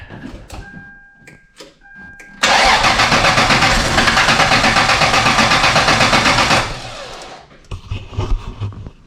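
A 3rd gen Toyota 4Runner in a repair shop cranks briefly and fires up, then runs with a loud steady roar for about four seconds before settling, with no talking over it.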